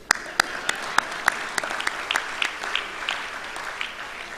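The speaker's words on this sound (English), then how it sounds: "let me clap you for that" Applause at the Jamaica Product Exchange trade show, sparse and uneven, with individual sharp claps standing out at irregular intervals over a soft background of more distant clapping.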